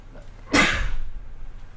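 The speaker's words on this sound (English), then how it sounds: "My apologies there, I had to sneeze." A single short sneeze bursts out loudly and close by, then its breathy tail fades away.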